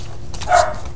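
A small dog gives one short, sharp bark at close range, a single yip rising out of quiet room tone with no other voices.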